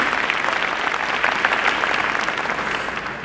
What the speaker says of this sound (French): on peut s'applaudir mutuellement.